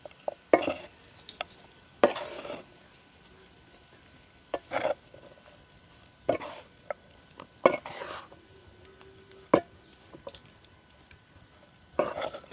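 A spoon works semolina upma in a pan after lemon juice and ghee go in, making intermittent scraping strokes and clinks over a faint sizzle, with quiet gaps between bursts.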